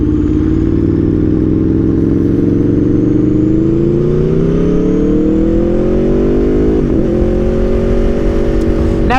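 A 2021 Aprilia Tuono V4 with a newly installed aftermarket exhaust revs loudly and close, the engine note climbing steadily in pitch through a long pull, with a brief dip and recovery near the end.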